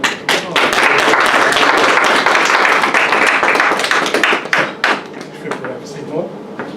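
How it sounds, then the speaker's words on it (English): A congregation at a Moorish holy day meeting breaks into a loud round of applause, a sustained roar of clapping that fades into sparse individual claps and thumps, with voices mixed in. "Give him a round of applause."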